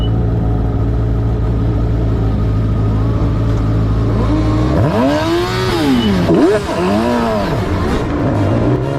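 A race car's engine heard onboard at a race start, first a loud, steady idle-like drone, then a hard acceleration with the pitch sweeping up and dropping through rapid upshifts, loud and close throughout.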